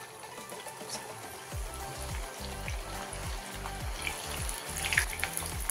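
Fresh avarekalu beans going into hot oil for a savory bean mixture, with a close, steady wet hiss and sizzle that swells and bubbles continuously, with no talking.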